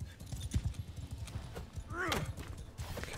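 A horse gallops in the video game Bannerlord, a quick run of close clip-clop hoofbeats with a brief neigh or whinny partway through, under faint background sound.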